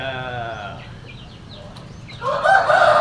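A rooster crows loudly nearby, one long call at the start and another strong burst near the end, with a bleating-like quality.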